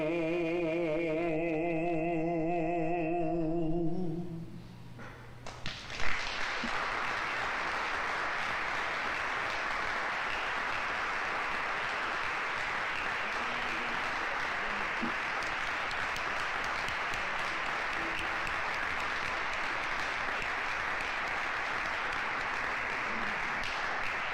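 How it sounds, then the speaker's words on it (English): Audience applause following a speech built around a reading of a poem, a broad steady clapping that rises after a brief lull and then holds loud and even for about twenty seconds, with no talk over it. "The applause is for all of you for listening to this painful but powerful speech"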